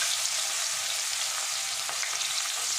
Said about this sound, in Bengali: পেঁয়াজ কুচিটা একটু 2 মিনিট ভেজে নেব।